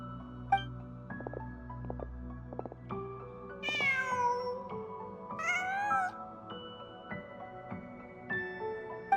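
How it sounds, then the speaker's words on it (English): Cat meowing inside the video game Genshin Impact: two rising, drawn-out meows stand out clearly over a steady layer of game music and ambient tones, spaced a couple of seconds apart. "Just a cat."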